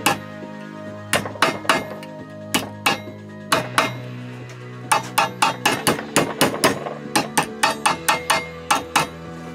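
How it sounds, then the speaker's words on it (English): Sharp metallic hammer strikes ring out in quick irregular bursts as metal ends of a homemade Freddy Krueger glove are hammered together, loud and close, with a clinking metal resonance and no talking. "I just start hammering"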